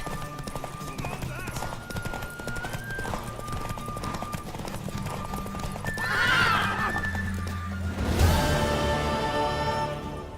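A horse whinnies amid game music and clip-clopping hooves in The Witcher 3 video game, with a louder burst of action sounds near the end.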